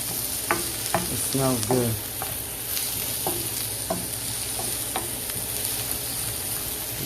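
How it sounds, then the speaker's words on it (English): Chicken and shrimp sauté in a skillet, a close steady sizzle broken by regular scraping stirs of a utensil against the pan, with a brief spoken remark partway through. "Give them a quick saute real quick for about 3 to 5 minutes to stir it."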